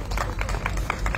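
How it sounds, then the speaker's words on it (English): Brief audience applause at a talk given by a high commissioner, a short, muffled burst of clapping of uneven rhythm, dense but not loud. "Give her a round of applause to me,"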